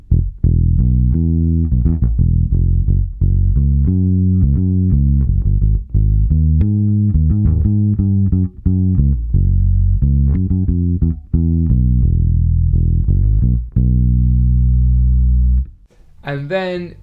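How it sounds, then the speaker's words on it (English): Electric bass guitar played through an effects rig, a continuous melodic bassline of sustained and plucked notes, loud and close, with a brief noisy burst at the very end. "So here's kind of my bass sound behind all of it."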